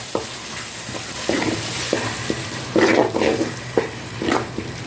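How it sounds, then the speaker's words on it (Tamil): Tomatoes sauté in a pan for crab gravy, with a steady close sizzle and repeated scraping strokes of a spatula stirring them at a loose rhythm. "அடுத்தது இது தக்காளி வச்சுருக்கேன் இல்லையா, அதை போட்டுக்கலாம். போட்டு நல்லா வதங்கட்டும்."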